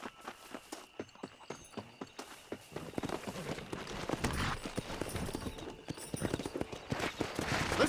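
Horse hooves in Red Dead Redemption, a steady clip-clop that starts at a walk and builds into a faster, louder gallop over an outdoor ambience; no talking.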